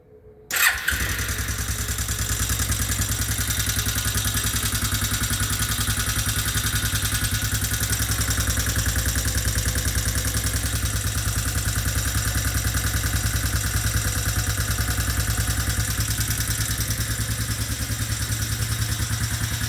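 An Arctic Cat 250 ATV engine, just fitted with a new carburetor and cable, cranks briefly and catches, then settles into a steady, close, rattling idle that continues evenly for the rest of the stretch with no talk.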